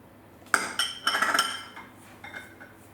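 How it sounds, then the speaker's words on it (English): Meat pie filling of tomato paste, diced tomato, cinnamon and olive oil being mixed in a bowl, with a few bright metallic clinks and scrapes of a utensil against the dish, close and distinct, then fading. "Just mix it all up together."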